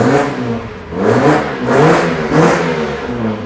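A cheap used Mazda MX5 with a tired engine revving: three or four swelling blips of rasping exhaust note rise and fall in quick succession, loud and close, with no talking.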